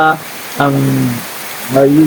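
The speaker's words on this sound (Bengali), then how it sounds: "এই যে বৃষ্টি প্রচুর বৃষ্টি পড়তেছে" Heavy rain falls in a steady, even hiss beneath a voice talking in short bursts nearby.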